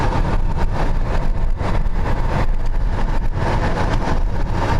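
Steady loud road and engine rumble from a car cruising on the highway, continuous broadband wind and tire noise with no pauses, close and even throughout.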